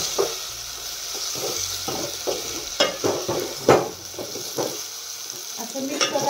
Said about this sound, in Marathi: मस्त असं फ्राय करून घ्यायचं शेंगा पण सुद्धा.